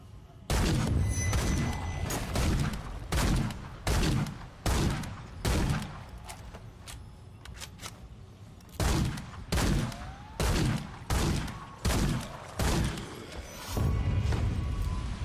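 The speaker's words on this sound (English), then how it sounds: "Time to test how this rifle does at distance." Rifle gunfire in the video game Remnant 2 fires at distant enemies, a steady series of about fifteen loud, evenly spaced shots with a short pause in the middle, each with a booming echo.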